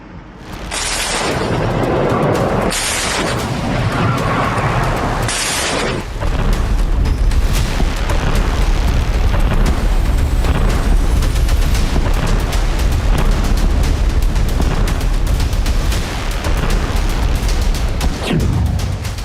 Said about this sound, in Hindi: ये आप देखिए किस तरीके से बमबारी वहां पर की गई